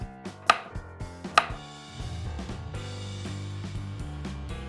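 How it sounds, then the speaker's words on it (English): A knife slicing salami on a cutting board at a campsite, two sharp distinct cuts near the start, followed by quieter tapping as more slices are made, with no talking. "Slice salami."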